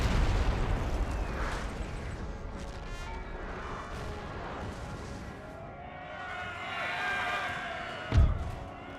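Artillery barrage in the Napoleon Total War strategy game: a dense rumbling battle din with rolling booms, then one sharper close blast near the end.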